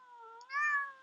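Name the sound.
cat meowing over Skype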